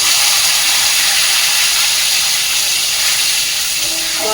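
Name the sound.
spices sizzling as they are added to the pan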